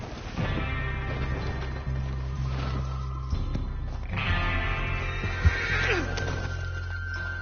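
A horse in the Western video game Red Dead Redemption 2 gives several whinnies and snorts over a low ambient hum, with light hoof clip-clops, fairly close and moderately loud.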